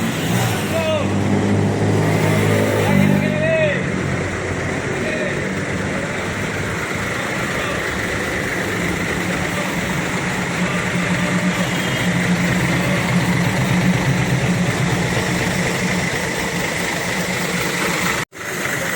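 A Sinar Jaya Dream Coach bus on a Hino RN 285 chassis runs with a steady engine drone throughout, heard from inside the cabin with some background noise.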